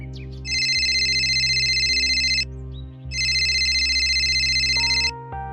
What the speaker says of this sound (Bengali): আচমকা আমার ফোন বেজে উঠল।